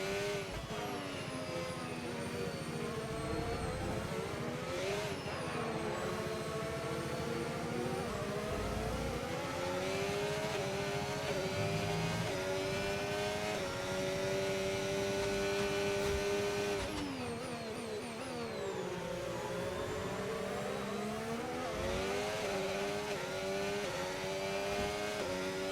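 Race car engines howl at a race start in a racing video game, several cars revving and shifting with rising and falling whines, loud and continuous, with no talk over them.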